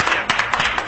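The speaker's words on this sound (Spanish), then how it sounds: "Un aplauso." A studio audience on an Argentine television show claps in applause, a brief burst of dense, even clapping heard up close and fairly loud.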